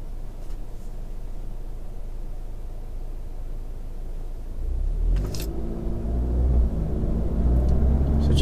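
A 2018 Audi S3 Sedan cruising at partial throttle in efficiency mode: a steady low cabin rumble and road noise that swells into a deeper, louder engine drone as the car pulls, heard from inside.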